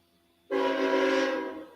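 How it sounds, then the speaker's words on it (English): A loud train horn blasts from nearby railroad tracks, starting abruptly and holding as one sustained chord-like tone for over a second before slowly easing off. "excuse the loud horn. I live near the train tracks"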